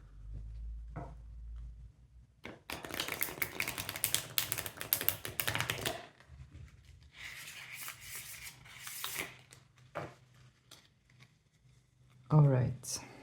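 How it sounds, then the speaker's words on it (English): Cards are shuffled in several riffling bursts, a soft papery rustle close by, with pauses and quiet handling between. "I'm just going to shuffle like this in order to refresh the energy of the deck."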